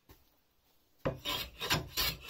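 A freshly sharpened Stanley 4.5 hand plane shaves padauk wood in crisp rasping strokes, several close, loud passes following a near-silent opening.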